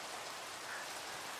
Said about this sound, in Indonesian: Aku bakal berlama-lama hujan-hujan.